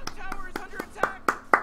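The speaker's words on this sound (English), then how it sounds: "That's me clapping for myself." Hand claps from a commentator during a Dota 2 match, about six sharp claps at a steady beat with the later ones loudest, over faint game sounds.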